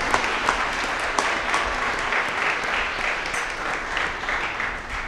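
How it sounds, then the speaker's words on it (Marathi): A church congregation at St. Thomas Church, Sandor, gives steady, sustained applause for children at their First Holy Communion. The clapping is moderately distant, filling the whole stretch evenly. "आम्ही सर्वजण टाळ्या वाजवून तुमचं अभिनंदन करत आहोत."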